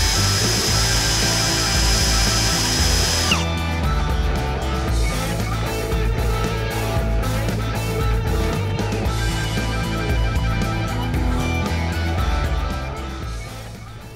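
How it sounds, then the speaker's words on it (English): A power drill bores through brand-new leather trim inside a new Toyota Tundra pickup, a loud close whine that steps up after a few seconds, runs steadily and tapers near the end, with no talk. "Always a little nerve-wracking drilling into brand new leather on a brand new truck"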